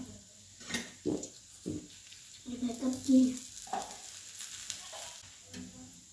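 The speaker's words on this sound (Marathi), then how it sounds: "हे बघा असे तव्यात टाकून आपण ह्याला चांगलं भाजून घेऊया बघा" Dhapate flatbread roasts with oil on a griddle, a faint, soft sizzle broken by a few brief louder bursts and light handling noise.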